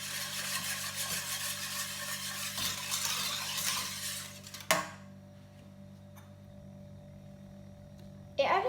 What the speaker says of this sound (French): je vais faire dissoudre 125 g de maïzena en morceaux.